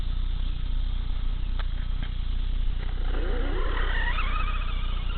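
A Redcat Shredder 1/5 scale RC car on 3S with stock 15-tooth pinion gearing whines in an open field on a hot day, its motor rising and falling in pitch over a steady background hiss.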